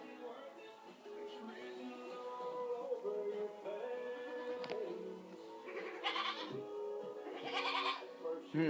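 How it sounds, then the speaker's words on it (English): Several goats bleat in a farm setting, their calls loudest in a pair of bleats near the end, while a voice talks at moderate level in the background. "Yep, a lot of goats."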